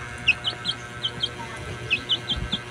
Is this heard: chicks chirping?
yes